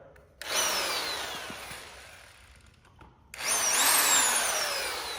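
A Harbor Freight hammer drill runs in hammer and drill mode with two loud bursts of whining motor and rattling, the first spinning up then winding down, a brief quieter gap, then a second strong run that slowly fades.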